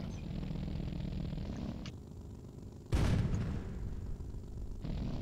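One heavy tank cannon blast in the video game Sprocket booms out over a steady low background hum, its deep rumble lingering for a moment before fading.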